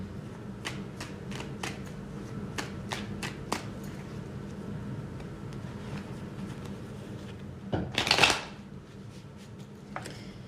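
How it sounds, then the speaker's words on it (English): A deck of cards is shuffled for a reading, with crisp riffling flicks and taps at an irregular pace over a low steady room hum, ending in a louder burst of fluttering cards; no talking. "Now let's pull some cards for the week for guidance."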